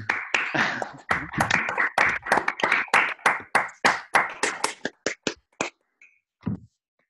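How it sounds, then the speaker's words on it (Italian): Audience applause at an Italian tech conference following a talk on the Product Owner role, a dense burst of clapping that thins into scattered individual claps and dies away after about six seconds. "Intanto ti facciamo un bel applauso Mauro, grazie mille."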